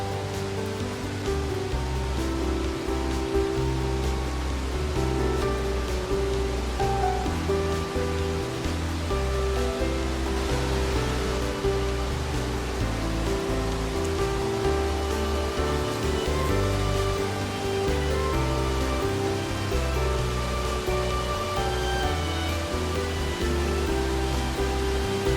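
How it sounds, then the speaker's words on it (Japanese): A high-volume waterfall in the Kumamoto–Oita area of Kyushu gives a continuous, steady roar of falling water that never lets up, heard over a constant tonal background layer. "想像以上の水量の滝、迫力があり轟音が鳴り響きます。"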